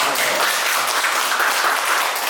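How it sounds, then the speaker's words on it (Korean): A lecture audience at a Korean humanities talk claps steadily, a dense, even wash of applause filling the room without pause, with no voice over it. "박수 한번 쳐봐보세요."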